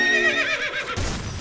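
A horse in a video game gives a loud, quavering whinny that warbles and trails off, followed by a short rumble of movement, with no voices over it.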